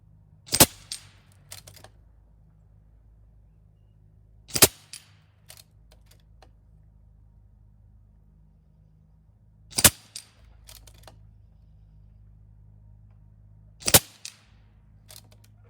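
Four spaced Air Venturi Avenger air rifle shots at a 50-yard range, each a crisp snapping pop followed by faint clicks, separated by several seconds of quiet with a low steady background hum.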